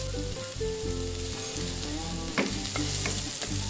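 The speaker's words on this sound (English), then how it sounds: "I can now add the onion and the garlic and saute them." Onion and garlic sauteing in hot oil for an Indian vegetable stir fry, a close, steady sizzle with occasional stirring clicks, over continuous background music.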